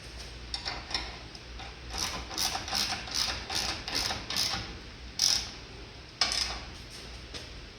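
A hand ratchet tightens bolts on the rear cab mounts of a 1948 Chevy truck cab set onto an S10 frame, giving repeated close, clicking strokes in short bursts with brief pauses between them.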